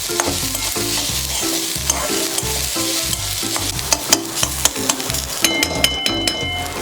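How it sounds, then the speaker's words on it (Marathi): Onion, garlic cloves and ginger frying together in a pan for a Malvani coconut-onion masala, with a steady loud sizzle and repeated scraping strokes of a spoon stirring through it, no talking. "त्यामध्ये आता मी 4 लसूण पाकळ्या आणि 1 इंच आलं घालून घेते आणि ते पण आपल्याला व्यवस्थित भाजून घ्यायचं आहे कांद्यासोबत."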